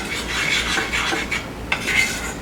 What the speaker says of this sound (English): we just want to cook and stir this until the garlic starts to brown a little bit